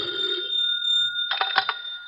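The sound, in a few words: telephone ringing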